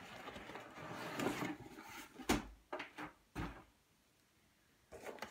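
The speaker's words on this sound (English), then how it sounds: "Let's open the box." A cardboard box holding an AK-74U style airsoft gun is opened, giving a series of close scraping, rustling and thudding handling noises with short pauses between them.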